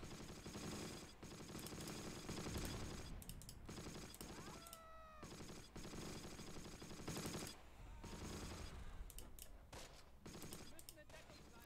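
Gunfire rattles through a Close Combat: Battle for Caen battle, with repeated bursts of machine-gun fire and scattered shots crackling over a continuous background of combat noise, including a short whistling sweep in the middle.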